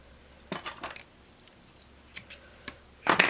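Scissors snipping fly-tying material for a green muddler fly, a few close, crisp metallic clicks in small clusters with quiet pauses between, ending in a louder cut.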